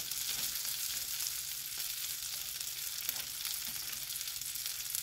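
Food fries in a pan during home cooking, giving a steady, close crackling sizzle with scattered pops and no speech.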